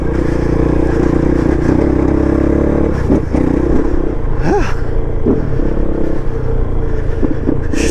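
KOVE 450 Rally motorcycle ridden off-road on hill trails, its engine droning steadily and loud throughout with rises and dips in revs, plus scattered clatter and rumble from the rough ground.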